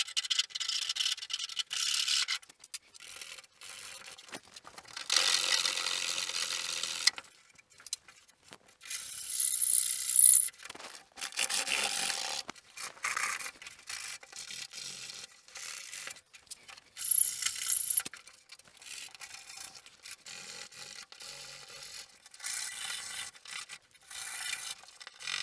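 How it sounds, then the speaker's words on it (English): Wooden canoe rib shaped with a rasp and sandpaper during a wood-canvas canoe restoration: repeated close, gritty scraping strokes in uneven bursts with short pauses between, no talking. "I'll continue with the rest of shaping the rest of these the same way, using the rasp and sandpaper"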